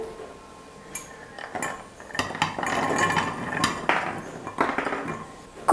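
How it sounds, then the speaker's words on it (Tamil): Soaked, peeled almonds are tipped into a mixer jar, making a scatter of light clinks and clatters against the jar for several seconds in a quiet kitchen. "இப்போது இந்த பாதாமை வந்து ஒரு மிக்ஸி ஜாரில் சேர்த்துக்கிறேன்."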